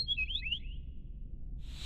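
Cartoon bird chirping inside a tunnel: a short run of bright, quick chirps over a low rumbling background, fading after about a second.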